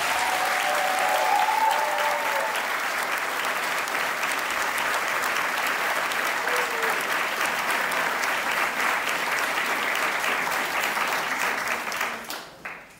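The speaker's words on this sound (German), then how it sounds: "Ich bitte um Applaus für unsere Diskutanten hier auf dem Podium." Sustained applause from the audience for the panelists on the podium at a political discussion event: a dense, even wash of many hands clapping that holds steady for about twelve seconds, then trails off.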